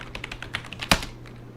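Rapid keystrokes clatter on a computer keyboard while entering a Vim command, a quick run of light taps ending in one sharper, louder key press.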